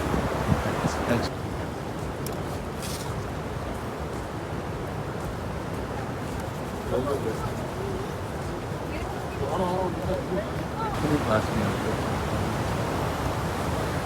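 A large volume of freezing water crashes down into the falls below in Canada, a continuous, loud roar with spray, heard from nearby under occasional voices.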